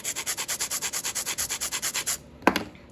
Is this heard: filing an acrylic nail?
yes